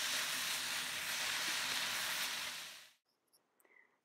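Quinoa stir fry sizzling loudly in a pan, a dense steady hiss that cuts off abruptly near the end, leaving a few faint clinks.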